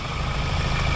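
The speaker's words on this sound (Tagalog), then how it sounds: "pero yung tunog ng makina niya, tahimik naman." A 2020 Ford Ranger Raptor engine idles quietly, making a steady, even rumble with light vibration at close range and no talk over it.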